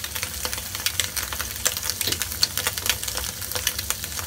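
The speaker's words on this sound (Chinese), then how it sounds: "好，而家等佢煎下先。" Egg tofu frying in oil in a wok, a continuous crackling sizzle with frequent sharp pops and spatters, close and alone without speech.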